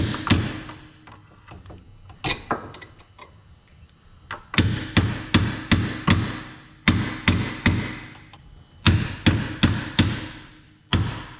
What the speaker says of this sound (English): Get yourself a punch and a hammer.